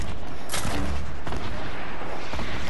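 Heavy gunfire crackles and booms in a loud, continuous volley, with a few sharper blasts standing out near the start and middle.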